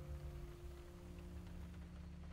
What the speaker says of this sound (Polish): Tak pada, że słyszę, a jakby tu padało